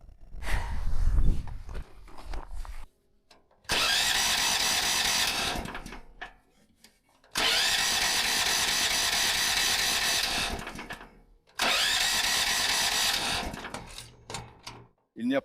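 A small engine cranked three times in long, loud bursts of about three seconds each, separated by silence, never catching; short talk comes before the first attempt.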